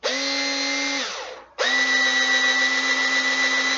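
A strong 20-volt electric screwdriver mounted on a cyborg arm whirs with a steady high motor whine, winds down briefly, then spins back up loud and close, with no talk.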